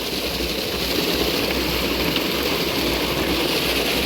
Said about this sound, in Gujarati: આ ખેતરમાં પાણી વાળ્યો। જો ખાલી પાણી જેવું ચાલુ